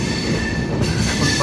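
Passenger train pulling out of Moradabad station, heard from inside a carriage: a loud, steady rumble of wheels on rails with metallic squeals and rattling close by.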